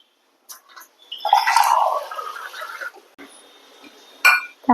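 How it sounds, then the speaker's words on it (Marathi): Water is poured into finely ground crab paste in a kitchen, making a splashing gush of about two seconds. A faint trickle follows, then a couple of sharp clinks. "त्याच्यात अजून पाणी टाकते मी जरा."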